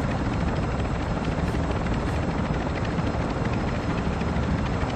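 A helicopter in the video game Call of Duty DMZ, its dense rotor and engine roar steady and loud throughout, filling the whole clip with no pauses.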